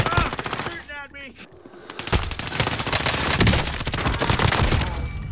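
Video game gunfire as enemies shoot at the player: dense rapid automatic bursts and scattered shots crackle loudly and keep on nearly without a break, with a brief quieter gap early on.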